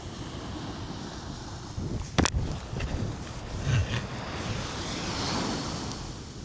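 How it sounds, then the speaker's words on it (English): Strong wind buffets the microphone on the coast in Marseille, a steady roaring rush with surf-like swells and a brief sharp gust or knock partway through, no voices. "It's a bit windy today"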